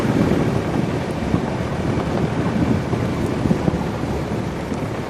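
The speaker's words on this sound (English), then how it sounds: "It is just the wind, Tom." Strong wind buffets the microphone in the African bush, a loud, continuous roaring rumble with gusty surges and no voices.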